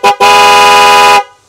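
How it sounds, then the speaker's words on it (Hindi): Original Hella horns fitted to a Royal Enfield Meteor 350 motorcycle honk loudly and close by, a short blast followed by a long, steady tone of about one second. "हेला के ओरिजिनल हॉर्न है जो इसके अंदर लगा दिए गए हैं। इसकी मैं सुनाता हूँ आपको साउंड"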